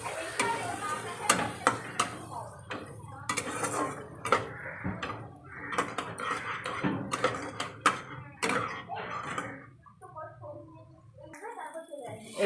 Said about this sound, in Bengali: এবারে চিংড়ি মাছের সঙ্গে ভালো করে মিশিয়ে দেব।